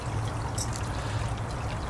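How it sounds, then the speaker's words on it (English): Water pouring steadily out of a conduit outdoors, a loud continuous rushing splash with no pauses and no voices. "that's the water that you see passing out behind me."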